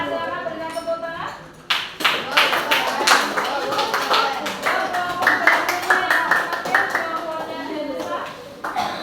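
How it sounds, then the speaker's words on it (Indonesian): A small group, apparently children at an Indonesian Independence Day gathering, claps in uneven bursts of quick sharp claps at close range, with voices and chatter mixed in among the clapping. "Nah, silakan berikan tepuk tangan."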